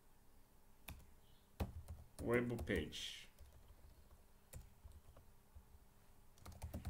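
Typing PHP and HTML code on a computer keyboard, scattered soft key clicks and a short burst of tapping with someone speaking over part of it.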